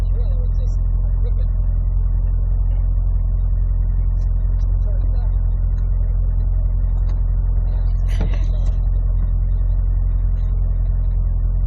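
A parked car's engine idles in a low, steady drone, with faint background voices and a brief knock partway through.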